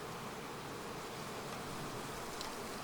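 Honeybees buzz steadily around a beehive frame during a honey harvest, a dense, continuous close-up drone with no pauses.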